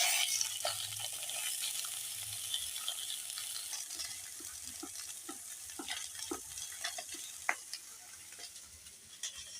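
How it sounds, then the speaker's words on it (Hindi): Fish frying in a pan, with a steady hiss of oil and scattered crackles and pops close by over about ten seconds, fairly quiet, with no voices. "ते माछ भजा चाली"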